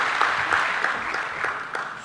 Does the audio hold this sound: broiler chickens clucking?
no